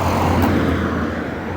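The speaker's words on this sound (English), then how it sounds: "I've got a car coming up on my left" A car approaches on a road on a walk in London, producing a steady, loud low engine and tyre rumble up close that eases off slightly toward the end.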